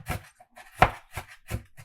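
A knife chops red onion on a cutting board, about five sharp, evenly spaced thuds in close succession with no talking.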